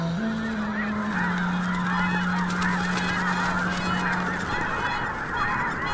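Red-breasted geese honk in a dense, continuous chorus as a huge flock of some 60,000 takes off together, with loud overlapping calls and wingbeat rush filling the air throughout.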